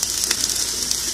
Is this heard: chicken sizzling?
yes